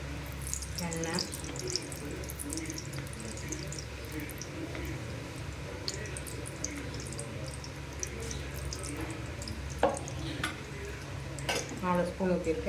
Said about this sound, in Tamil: வெங்காயம் பொரிச்சிட்ருக்கு